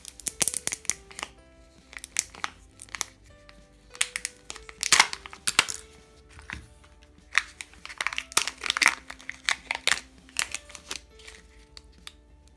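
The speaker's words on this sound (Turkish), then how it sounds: "Önce kağıdımızı açalım." Foil wrapper of a Kinder Surprise chocolate egg being peeled open up close, with bursts of sharp crinkling and rustling separated by brief pauses, fairly loud and without any talk.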